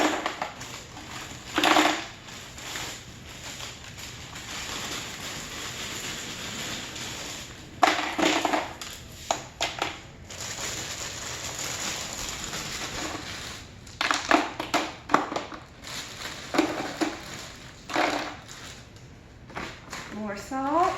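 Ice dumped into a homemade ice cream maker bucket for banana split ice cream, layered with salt: scattered crunching, rattling clatters in bursts between quieter stretches, close by, with a person talking at times.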